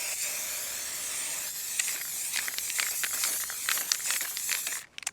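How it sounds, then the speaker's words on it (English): A steady spray of tacky glue from an aerosol can hisses continuously for several seconds, close by, then cuts off abruptly at the end. "The clear, or rather the tacky spray, right? Glue. So just spray it on."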